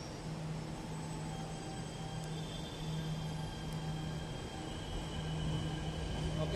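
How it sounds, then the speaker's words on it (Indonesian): A low, steady rumble of a commuter train pulling away from a station at night, bound for Lebak Bulus, with a faint hum and distant tones, fairly quiet throughout. "saya akan coba untuk memvideokan untuk kereta kita ini yang akan berangkat ke arah Lebak Bulus"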